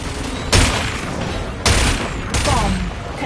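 Three heavy cannon blasts from a Wipeout Omega Collection racing craft burst out at intervals, each a sharp booming crack with a brief rumbling tail over a constant roaring engine bed.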